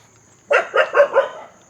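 Several dogs bark at someone on a walk outdoors: four quick, fairly close barks in a steady rhythm, followed by the start of a fifth, with no talking over them.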